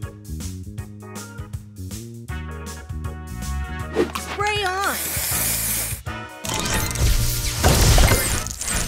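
Spray booster effect from the Match Masters mobile puzzle game, a loud hissing, shattering burst that follows bright musical chimes and game voice lines, set among busy game sound effects.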